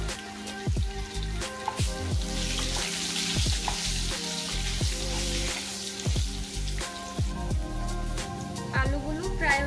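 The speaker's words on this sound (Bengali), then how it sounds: "এখন আলুগুলোকে ফ্রাই করে নেব। সামান্য একটু নুন হলুদ দিয়ে ফ্রাই করে নেব।" Potatoes fry in hot oil with a little salt and turmeric, making a continuous crackling sizzle with many sharp pops and spits throughout, close and fairly loud.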